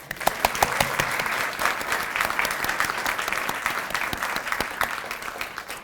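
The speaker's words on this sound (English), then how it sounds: "So a big round of applause for them." An audience at a community foundation annual meeting breaks into sustained applause, a dense steady wash of many hands clapping in a room, with no talking over it.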